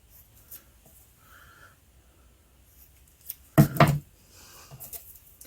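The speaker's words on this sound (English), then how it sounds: "Let's just cut from here and cut out a bit like that." Scissors snipping through paper, a quick close burst of a few sharp cuts after quiet handling rustles, with faint rustling continuing afterwards.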